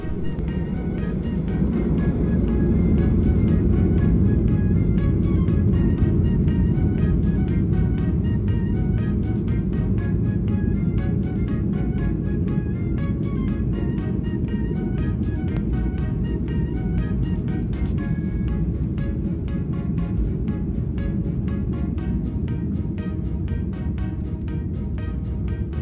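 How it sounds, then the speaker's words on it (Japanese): A JAL airliner on the Haneda Airport runway at night, with its jet engines spooling up into a steady, loud low roar that holds throughout the takeoff run, broad and continuous with no talk over it. "エンジン音が大きくなり再び動き出しますと、スピードを上げ離陸をしていきます。"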